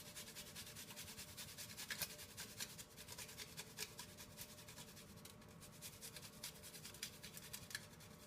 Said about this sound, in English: grate the last clove of garlic